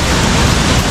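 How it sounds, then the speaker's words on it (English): An arctic waterfall fed by snow meltwater in Norway pours in a dense, constant broadband roar, loud and close, with no pauses or voices. "Comes from here to join the waterfall over there."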